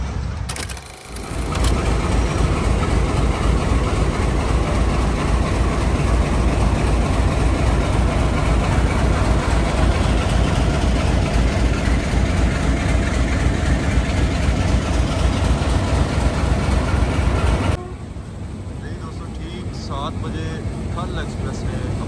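Thall Express 130 DN pulling three coaches slowly out of Rawalpindi station, a loud, steady heavy rumble of engine and rolling wagons that starts abruptly and holds for most of the clip before dropping away near the end.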